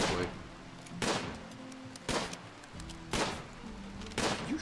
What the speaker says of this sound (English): You shoot the... You shot the marble wall.